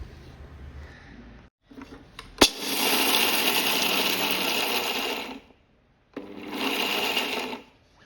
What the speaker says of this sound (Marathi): अर्धी वाटी शेंगदाणे आणि फुटाणे आपण आता मिक्सरला बारीक करून घेणार आहोत